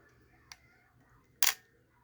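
An Asahi Pentax Spotmatic, an all-metal film SLR, fires its shutter: a faint click, then about a second later one sharp, loud mechanical snap, close by against near silence.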